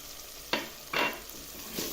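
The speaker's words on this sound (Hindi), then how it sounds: "टमाटर सॉफ्ट हो चुके हैं तो अब हम इसमें डालेंगे लहसुन अदरक का पेस्ट।" Garlic-ginger paste hits softened tomatoes in a hot pan for an aloo beef curry, giving short bursts of sizzling frying and stirring that flare up and fade a few times, fairly quiet and close, with no talking.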